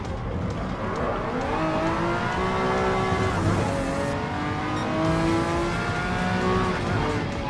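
A classic Group C prototype race car in Gran Turismo Sport howls at high revs, its engine note climbing and dropping through gear changes in a steady, loud drone.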